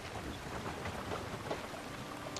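Rain falls in the medieval world of Kingdom Come Deliverance II, a soft, steady patter and hiss of drops with no talk, fairly quiet and continuous throughout.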